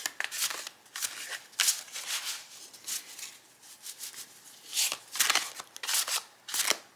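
Paper oracle cards are shuffled overhand close up, giving repeated crisp riffling and rustling bursts in an irregular rhythm, each a quick papery flutter separated by short pauses.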